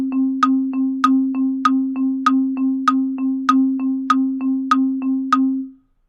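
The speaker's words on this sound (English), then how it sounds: "So an eighth note sounds like this." Steady eighth notes entered as blocks in SongMaker ring out as a bright, clean electronic tone, about sixteen evenly spaced pulses over a sustained low drone, then stop abruptly with nothing else heard.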